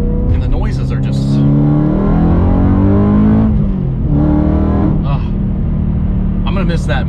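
A BMW E92 M3 with an Eisenmann race rear exhaust section revs and rumbles loudly up close, rising and falling in pitch a few times, with brief bursts of higher-pitched noise between revs.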